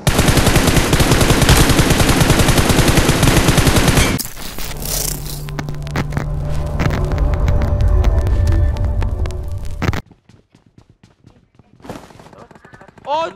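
Rapid automatic gunfire in the mobile battle royale game PUBG Mobile, loud and dense at first, then sparser shots and game effects before a quieter stretch.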